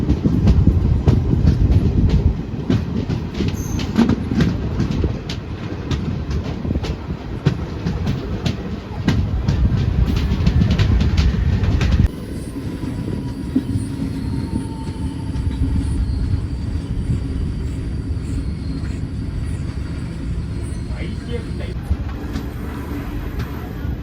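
Interior of a moving Jan Shatabdi Express coach on the Tambaram to Trichy run, a steady loud rumble with clickety-clack of wheels and brief squeals throughout, the roar dropping slightly about halfway through.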